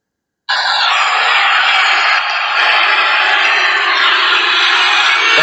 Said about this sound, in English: That's the New Day getting booed.